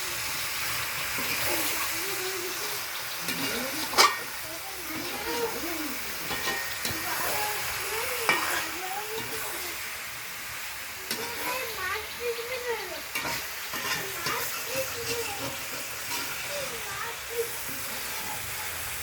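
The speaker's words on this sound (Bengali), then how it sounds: "ক্যাপসিকাম, কাঁচা লঙ্কা আর পেঁয়াজটা ভালো করে তেলের সাথে মিশিয়ে নিচ্ছি" Capsicum, green chilli and onion stir-fry in oil for chilli chicken. A continuous close sizzle runs under a person talking, with occasional stirring knocks and scrapes.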